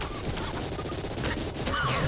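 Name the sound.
submachine gun wands firing in a video game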